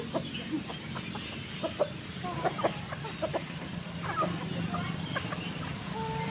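Scattered clucks and short squawks from several native chickens being fed, over a steady low background hum, close by and moderately loud, with bursts of activity throughout.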